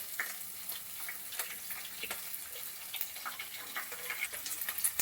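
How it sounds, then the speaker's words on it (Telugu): Onions frying in a pan for bagara rice give a soft, steady sizzle with scattered crackles and pops, faint and close, with no voices. "ఇప్పుడైతే కొంచెం ఫ్రై చేసుకుందాం"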